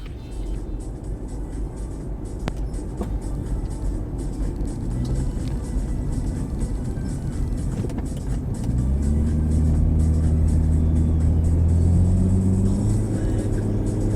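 A car drives along with a steady low engine rumble and road noise heard from inside the cabin. The engine note rises and thickens toward the end as the car speeds up.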